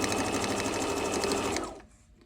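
A sewing machine runs steadily at high speed while stitching the straight edge of a fabric coaster or pot mat, loud and close, then stops abruptly near the end.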